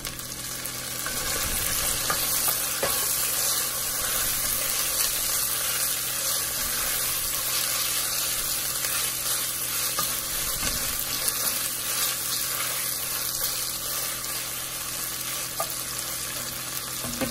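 Tomato fries in oil for egg biryani, a continuous close sizzle with stirring clinks and scrapes of a spoon in the pan, steady throughout without speech.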